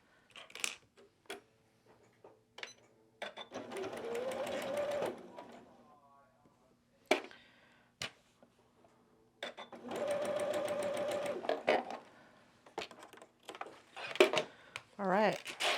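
Sewing machine stitching quilt seams for a quilted snowman block, two sustained runs of a few seconds each, separated by clicks, handling noises and brief talk.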